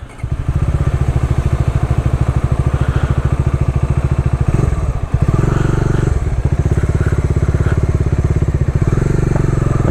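Bajaj Dominar 400 motorcycle being ridden, a loud close engine with a rapid steady thumping exhaust pulse, briefly dipping and surging partway through before settling back into a constant running drone.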